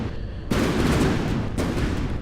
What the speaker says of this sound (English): It has anti-missile cannons